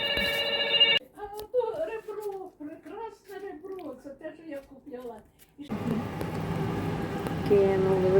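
A telephone rings briefly at the start in a home kitchen while borscht cooks, then a person talks, followed by a steady hissing background with a faint tone near the end.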